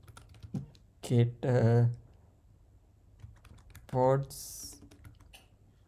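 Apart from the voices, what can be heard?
typing on a computer keyboard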